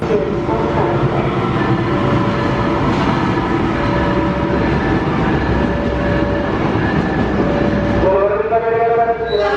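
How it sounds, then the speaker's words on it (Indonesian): Cikuray 299 passenger train, with a Jayakarta premium economy car in its consist, at Pasar Senen station in Jakarta. It gives a loud, continuous rumble with rail noise and sustained tones, and a rising whine near the end. "Cikuray 299 yang mana untuk hari ini masih belang keretanya"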